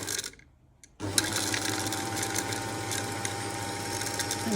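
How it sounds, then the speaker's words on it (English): A Bernina Nova 900 sewing machine winding a bobbin starts up after a brief hush, then gives a steady, close, whirring mechanical hum with faint ticking, running on evenly and alone. "And there it is, winding the bobbin."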